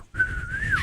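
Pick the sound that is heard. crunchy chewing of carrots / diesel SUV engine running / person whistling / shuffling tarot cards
person whistling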